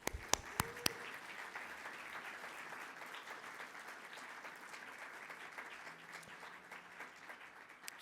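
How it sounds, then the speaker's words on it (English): A room applauds at a tribute to Cindy Le Mons. A few sharp claps come first, then steady, moderately loud clapping from the crowd runs the whole way through with no talking. "So let's give her a round of applause."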